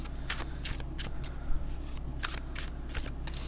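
Playing cards being shuffled, a series of quick riffling bursts in steady rhythm, close and crisp over a low hum.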